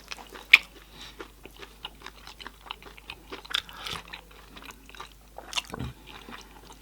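Close, crunchy biting and chewing of goat head meat, tongue and gizzard fry and chunky curry in a mukbang, with irregular bites and wet mastication sounds at a steady pace and no talking.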